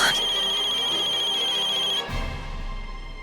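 A phone ringtone rings on unanswered, a loud, steady electronic melody that cuts off abruptly after about two seconds, leaving a low background hum.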